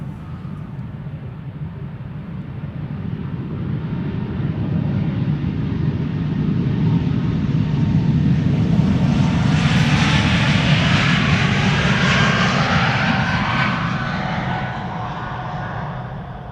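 An Airbus A220 airliner takes off at Amsterdam Schiphol, its engine roar swelling from a steady rumble to a loud, close peak with a rising whine before easing slightly as it passes.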